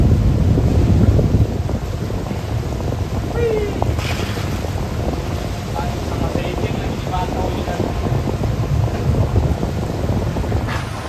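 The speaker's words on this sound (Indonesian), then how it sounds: "kalau ombak besar kayak gini buat mobil-mobil susah untuk turun dari kapal" Strong wind and heavy waves at a ferry port on the Sunda Strait during extreme weather, a constant roaring rush with buffeting gusts against the microphone and low rumbling from the vessel, loud throughout.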